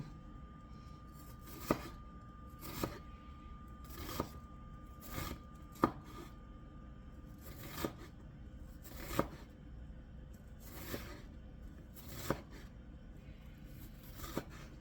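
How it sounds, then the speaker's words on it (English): A knife slices horizontally through an onion on a cutting board, with about a dozen crisp, evenly spaced cuts and soft knocks of the blade, close and fairly quiet. "If your onion's thick, you'll have to do more slices horizontally"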